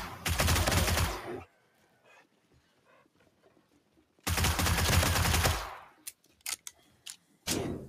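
Bursts of rapid gunfire in a video game as the player shoots at a dog: a loud, dense volley lasting over a second, quiet, a second sustained volley, then several short sharp shots and a final burst.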